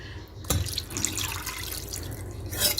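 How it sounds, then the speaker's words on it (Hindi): A cup of water is poured onto one kilogram of raw goat liver in a kitchen bowl for washing, giving a short splash followed by trickling and dripping, close and moderately loud. "तो यहाँ पे मेरे पास पानी है 1 कप, तो ये मैं ऐड कर दूंगी इसमें।"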